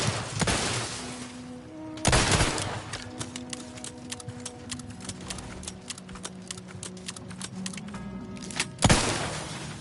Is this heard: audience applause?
no